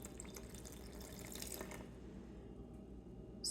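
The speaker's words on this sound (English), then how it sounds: "I'm gonna put in a couple more drops of water to get it to 150." Water poured steadily into a sourdough starter jar sitting on a kitchen scale, a continuous close trickle that thins out toward the end, with no voices.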